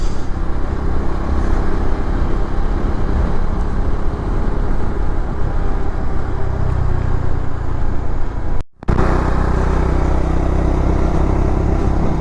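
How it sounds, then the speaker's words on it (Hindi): Motorcycles labor up a steep Himalayan mountain road, their engines droning loudly and continuously up close, with a brief dropout near the end. "बाइकों को भी सांस चढ़ रहा है"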